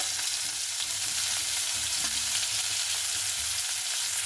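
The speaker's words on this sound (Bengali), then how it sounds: "মাছটাকে একটু লাল লাল করে ভেজে নেব" Fish frying in hot oil in a wok, a steady close sizzle with crackling bursts that runs unbroken and fairly loud for the whole stretch, with no voices over it.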